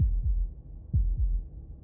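Heartbeat from the video game Slay the Princess: two deep, muffled lub-dub beats, close and steady, thudding over a faint low hum with no other sound.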